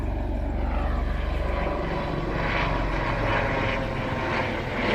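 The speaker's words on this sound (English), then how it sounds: "Is that a helicopter?" A helicopter passes overhead above a sod farm, a steady low engine and rotor drone that fills the whole clip without a break, fairly loud and close, with no talking.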